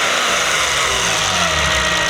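BMW 325i engine running steadily with an aftermarket Mishimoto fan roaring over it, a loud, constant broadband whoosh above a low, even engine hum, close up and without speech.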